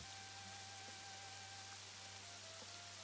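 Steady, soft rain ambience in a visual novel game, a continuous hiss of falling rain with a faint low hum beneath and no voices.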